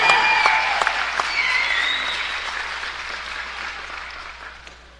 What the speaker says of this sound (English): Big round of applause, Mary Schooler.